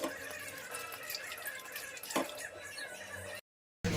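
Water poured over watermelon rind to rinse it, a steady splashing, trickling flow close by that runs for a few seconds before cutting off abruptly.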